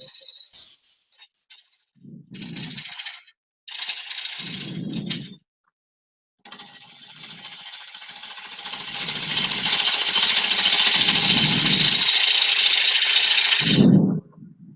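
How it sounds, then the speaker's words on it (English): A wood gouge cutting a sphere on a lathe, with short grain running into the tool: intermittent bursts of rough scraping and knocking, then a long, loud, continuous cut that ends abruptly. "short grain running into the gouge, it's a harder cut for the wood"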